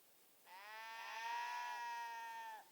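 A single sheep bleat in the video game Kingdom Come Deliverance II, one sustained wavering call lasting about two seconds, clear and close against a quiet background.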